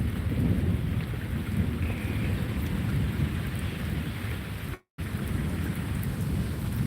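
Steady heavy rain from a tropical storm in Florida pours down with a deep rolling rumble of thunder, the roar constant and close, briefly cutting out for a moment.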